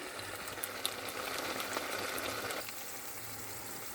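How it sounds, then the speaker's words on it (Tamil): Potato pieces cooking in hot oil for a potato curry give a dense, steady sizzle and bubbling that drops slightly in level partway through, with no voices. "தண்ணீரில் அவிவதை விட எண்ணீர் எண்ணெயில் அவிந்து பொரிந்த மாதிரி வரும்"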